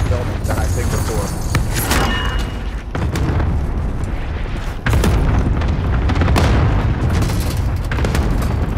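Cluster strike blasts pound in the Resurgence shooter game, a loud barrage of deep booms and crackling bursts with sharp hits near two, three and five seconds, while players talk over the din.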